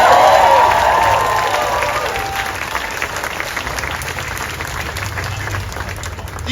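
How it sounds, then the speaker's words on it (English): Loud crowd applause at an outdoor Pride Square opening event in Newtown, Sydney, dense clapping with some cheering that stays steady and slowly tapers. "And keep the applause going for Big Rob, the best MC in Sydney."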